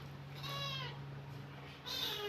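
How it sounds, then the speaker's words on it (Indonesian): A cat meows nearby, two drawn-out meows separated by a short pause, clear and fairly close over a low steady hum. "Ada kucing."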